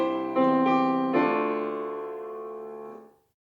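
A hymn played on the piano with the tenor part raised an octave into the right hand, a few sustained chords struck in sequence, the last one ringing and fading to silence.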